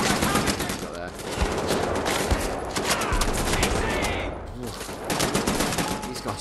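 Bursts of machine gun fire crackle through a Wolfenstein: The New Order firefight, with dense overlapping volleys that rise and fall and carry on through the whole stretch, close and loud.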